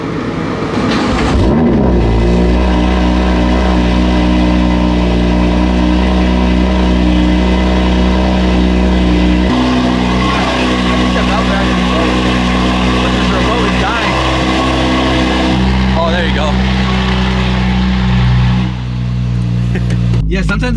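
A loud Chevrolet Corvette engine idles and revs steadily nearby while the car is being moved, a deep continuous drone with shifts in pitch, and a voice talks over it.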